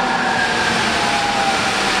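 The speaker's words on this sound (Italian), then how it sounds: "Arriva la metro?" A Milan metro train rolls through the station on the red line, a steady loud rumble with faint tonal whine and broadband rail noise throughout, no voices over it.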